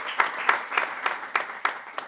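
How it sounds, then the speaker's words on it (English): A small audience claps for a security-company speaker coming to the stage, the applause fairly quiet and thin, with individual claps standing out in a steady rhythm for about two seconds. "Let's give him a round of applause."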